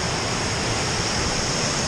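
The waterfall at Havasu Falls in the Supai area of the Grand Canyon roars as a constant, loud broadband rush of falling water, heard close and alone.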